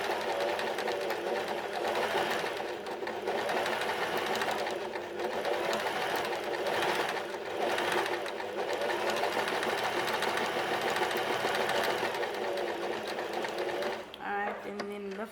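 A sewing machine runs steadily and loudly while stitching a blind hem with a blind hem foot, a continuous mechanical whir that stops abruptly near the end.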